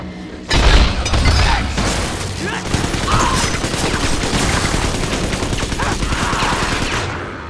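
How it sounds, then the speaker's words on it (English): Sustained machine gun fire in the video game Bioshock 2, a loud, dense burst of rapid shots with booming impacts that begins abruptly and keeps going, with a voice talking over it. "Eat, machine gun."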